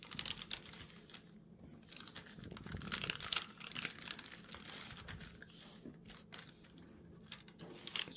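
Paper is creased and folded by hand for a Korean demon (dokkaebi) origami, giving close, continuous crinkling and rustling with soft crisp snaps, no speech.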